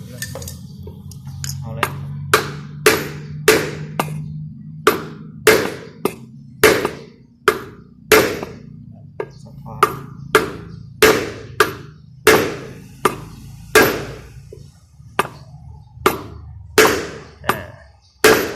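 Steady hammering on wood, about two dozen sharp knocks at a regular pace, close by, with low voices murmuring underneath.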